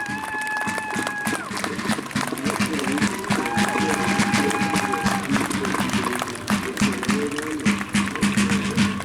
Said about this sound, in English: As they pass in review, let's have a round of applause for Colonel Nick Miner and the Federal Boys